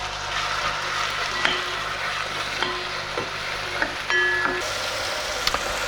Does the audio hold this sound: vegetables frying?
yes